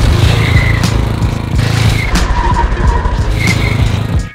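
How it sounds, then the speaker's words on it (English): A motorcycle brakes hard under power and its rear tire slides while drifting, a loud close engine roar with repeated rising revs and skidding tire noise throughout, fading at the end. "It's actually another power brake with a slide on the end."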